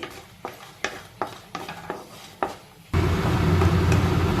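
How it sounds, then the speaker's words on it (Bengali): Lentil dumplings (bori) frying in mustard oil in a wok: a series of sharp spatula scrapes and taps against the metal, then a sudden loud, steady sizzle as they hit the hot oil. "বড়ি কটা আগে একটু ভেজে তুলে নিচ্ছি"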